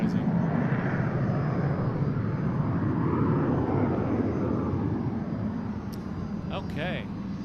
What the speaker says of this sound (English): And that Phenom is noisy. My God, is that plane noisy.